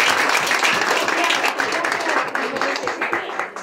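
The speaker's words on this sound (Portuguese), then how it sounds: "Pode louvá-lo sempre com as suas palmas." A church congregation applauding during a worship service, steady dense clapping that fills the whole stretch with no break.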